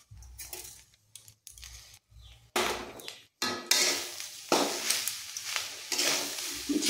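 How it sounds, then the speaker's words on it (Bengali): Sugar and cardamom fry in a pan for chandrapuli pitha, a spatula scraping and stirring in irregular bursts with brief pauses, the sizzle growing louder and fuller toward the end. "চিনি দিয়ে ভালো করে ভেজে নেব।"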